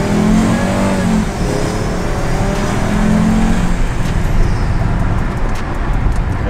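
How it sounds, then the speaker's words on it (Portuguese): A car accelerates hard at high speed with a GoPro mounted inside one of its tires, giving a loud, steady roar of engine and rushing road noise throughout, with no voices. "vou dar uma acelerada agora, hein?"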